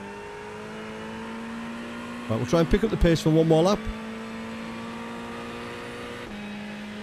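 Ferrari 488 GT3 Evo race car engine in an iRacing session at Suzuka, a steady drone broken by a short burst of rapid revving and gear changes, with someone talking over it.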